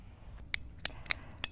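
Pipe cutter or shears snipping through a 2-foot section of pipe for an air rocket launcher: four sharp, crisp clicks spaced unevenly, close and fairly quiet, with no talk.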